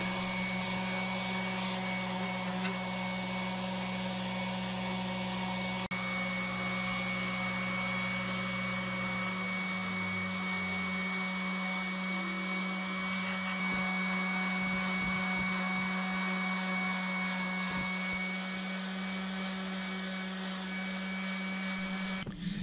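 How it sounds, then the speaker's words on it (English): Steady whirring drone of a random orbit sander with fine grit up to 320 working a wooden knife handle, with a constant hum and gritty friction noise running continuously, close up. "I switched over to my random orbit sander and worked my way down to 320 grit"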